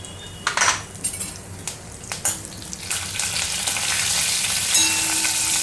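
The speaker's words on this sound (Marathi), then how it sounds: "सुंदर सूर आवाज आलेला आहे फोडणीचा आपला" Mustard seeds, cumin and curry leaves hit hot oil for tempering, setting off close, loud crackling pops and spits that settle into a continuous hiss, with faint clinks of a spoon or pot.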